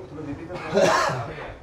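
A single short sneeze bursts out close by, surrounded by faint talking.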